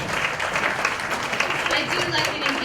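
Audience applause at a poetry reading: a continuous wash of clapping from a seated crowd, moderately loud and steady throughout.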